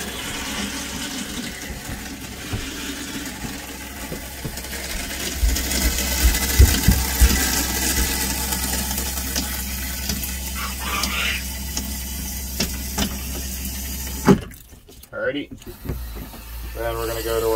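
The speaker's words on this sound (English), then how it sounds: "Toilet, not super important, but we'll still make sure that we run it and we get some water" A camper toilet being run to fill its bowl with water after de-winterizing, a steady mechanical flush and flow with pump hum, ending in a brief abrupt clunk and gurgle.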